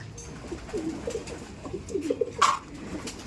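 Racing pigeons at feeding time, with a run of low, soft coos and murmurs close by and one brief sharper sound near the end, heard against a quiet background with no voices.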